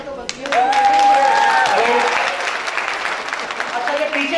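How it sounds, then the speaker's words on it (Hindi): Applause from an audience at an award ceremony, a dense continuous patter of many hands rising quickly and holding, with a voice speaking over the top. "तालियां तो बनती हैं"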